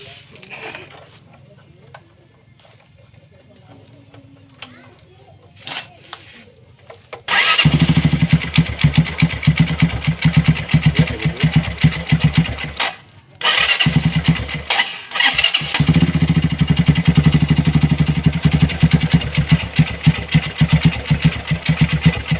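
A Minerva motorcycle engine, just repaired for an oil feed problem, starts up with a loud burst and then idles in a rough, throbbing rattle, after quiet workshop noises and with a short cut-out midway.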